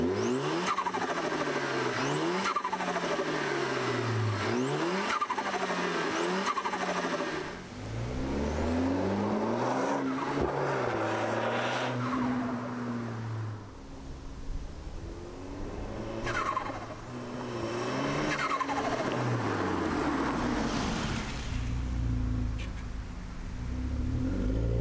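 An Audi A4 B8.5 turbo engine with a cold air intake pulls through repeated gear-by-gear accelerations, each surge climbing in pitch and then dropping at the shift, loud and close with intake and turbo whoosh throughout.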